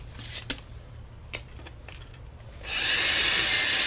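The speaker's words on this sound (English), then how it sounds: "We're going to go ahead and take our drill to these 2, which are exposed already" A few short mechanical bursts, then a loud, steady high-pitched power drill whine drilling out window regulator rivets on a 1995 Chevy Silverado, grinding on continuously to the end, close by.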